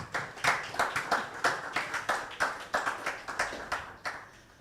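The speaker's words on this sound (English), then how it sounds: "Let's give them a round of applause" A small group claps at the Moss International 50th anniversary media launch, a sparse, distinct series of individual hand claps in loose rhythm, close and clear with gaps between strikes.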